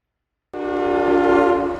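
A freight train's horn sounds in East Palestine, Ohio, where the railroad runs through the middle of town. The blast comes in abruptly after silence and holds steady and loud, with rich layered tones.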